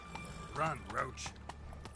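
Horse hooves clip-clopping in a quick gallop rhythm in a video game, faint and under a voice urging the horse on.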